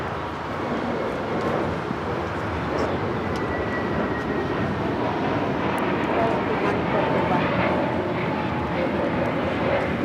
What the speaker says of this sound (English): This is Spirit Airlines 110 taking off to Salt Lake City on the A321neo.